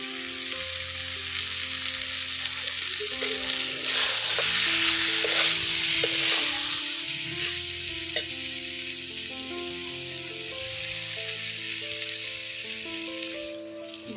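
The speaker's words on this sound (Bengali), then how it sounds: "এবার ভেজে রাখা আলু দিয়ে দিব।" Previously fried potatoes go into a pan of banana flower curry and set off a steady hiss and sizzle that swells in the middle, heard up close under soft background music with no talking.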